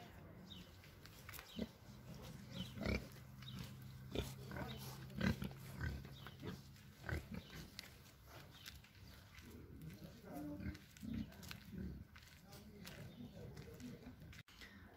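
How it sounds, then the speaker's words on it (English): Pigs housed on a farm in Austria grunt and snort on and off, close by in an indoor pen, with people's voices mixed in among the animal noises. "In here, let me show you the pigs."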